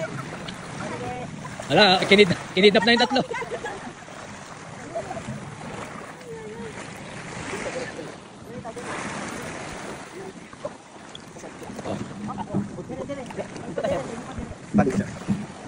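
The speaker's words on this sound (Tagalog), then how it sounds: "Ibinaon nyo na yung bangka." A small wooden bangka outrigger boat on the water off Coron, with splashing and hull sloshing under several people talking and calling out close by.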